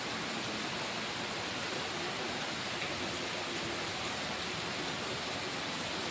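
Steady rain falls outdoors on garden plants, including a Brahma Kamal bush, producing a constant, even hiss with no distinct drops or voices, moderately quiet throughout.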